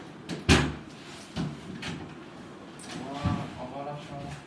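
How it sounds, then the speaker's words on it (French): A hotel room door in Japan swings shut with a sharp thud, followed by a softer knock and later another bump, while people chat casually nearby. "ferme la porte"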